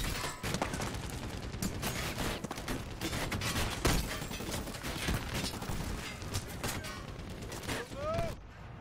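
Sustained enemy rifle fire from the first missions of the video game Medal of Honor Warfighter, rapid repeated shots and explosions layered together, loud and busy throughout with a player's voice talking over it.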